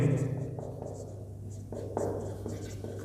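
Chalk or marker scratches across a board during a Hindi-medium Class 12 maths lecture, a series of short, fairly quiet strokes over a steady low room hum.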